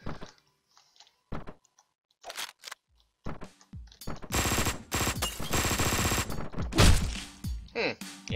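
Gunfire in the Hotline Miami 2 video game comes in short bursts, then swells into sustained rapid automatic fire with crunchy impacts, loud and punchy between brief silent gaps.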